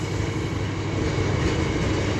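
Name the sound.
train passing at Church Fenton on the ECML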